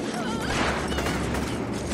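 Gunfire in the video game InFamous, a dense burst of shots and crashes forming a steady loud barrage throughout, with game noise layered over it.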